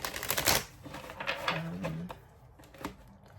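Tarot cards shuffled by hand in quick bursts of papery riffling and flicking, close and fairly quiet, with a louder flurry near the start and brief taps afterward.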